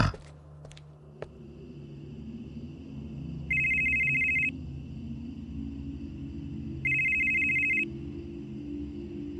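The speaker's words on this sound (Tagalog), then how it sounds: "narinig kong tumunog ang cellphone ni Mang Paterno" A cellphone ringing sound effect plays in a horror story setting: two bright, steady electronic ring bursts about three seconds apart, each lasting around a second, over a low background rumble after a few brief clicks at the start.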